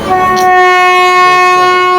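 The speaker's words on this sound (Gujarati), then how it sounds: "વડોદરાનું રેલવે સ્ટેશન. આ જો બધી પબ્લિક ટ્રેનની વેઇટ કરે છે." A train horn blares loud and steady for about two seconds, close by at Vadodara railway station where passengers wait, with a rich stack of tones.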